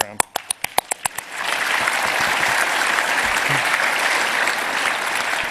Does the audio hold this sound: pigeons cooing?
no